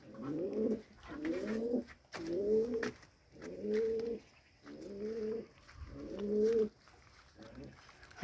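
Pigeons coo close by in a pigeon loft, six or seven soft rhythmic rolling coos in steady succession, faint and low, with someone talking at times.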